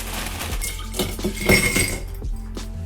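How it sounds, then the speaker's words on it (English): Ice cubes tumble into a cocktail shaker for a Star cocktail of Calvados and sweet vermouth, giving a series of bright clinks and rattles, close and fairly loud, with no talk. "I'm going to add a little bit of ice to the shaker."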